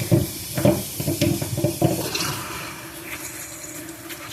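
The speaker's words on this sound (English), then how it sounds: "I can see a lot more water shooting out of it backwards." Water sprays and hisses through a Briggs and Stratton carburetor being cleaned out, coming in close, uneven bursts and spurts that fade into a steady low hiss.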